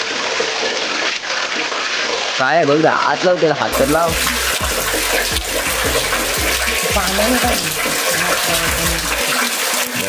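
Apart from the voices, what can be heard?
water gushing out with force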